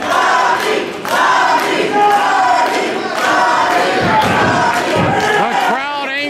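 A professional wrestling crowd shouts and cheers loudly and close, with chanting surges, scattered whoops and thuds, and an announcer speaking over the noise.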